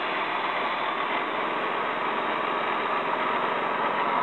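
Light aircraft engine idling before takeoff on an airport runway, a steady, loud, unbroken drone with constant pitch and no talk.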